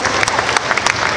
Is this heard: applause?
yes